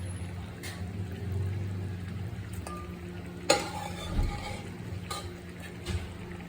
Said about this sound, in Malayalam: ഇട്ട് കൊടുത്ത് എല്ലാം നല്ലപോലെ ഇളക്കി യോജിപ്പിച്ചിട്ടുണ്ട്.